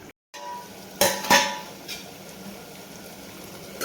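A metal lid settles onto a cooking pot of simmering tomatoes with two quick clanks in close succession, followed by a soft, steady cooking hiss and a faint later tap.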